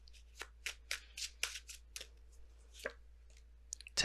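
Tarot cards handled close up as one is pulled from the deck: a quick series of light, crisp flicks and slides, a few taps, then a sharper snap at the end, with no talking.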